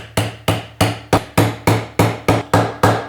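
A mallet taps parts into a custom bass guitar body, ten sharp, evenly spaced knocks in quick succession, loud and close with no talking.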